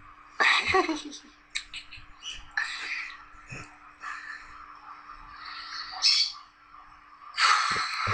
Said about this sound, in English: Can you stop making those chirping noises? They're fucking birds.